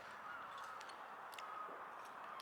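A crow caws a few times outdoors, faint and distant, short scratchy calls over a steady background drone.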